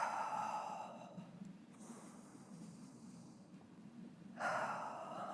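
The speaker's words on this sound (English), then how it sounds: "Take some deep breaths." Deep, slow breaths during a chest stretch in a basic exercise session: a long inhale, a quieter hold, then another audible rushing breath, close to the microphone and without talk.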